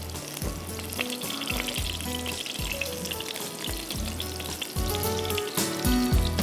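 Small chicken mini burger patties fry in butter in a pan, giving a close, steady, crackling sizzle with a low rhythmic hum underneath throughout.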